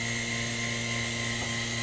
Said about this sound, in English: you're going to jog the machine just so this tube comes up here, grabs the first one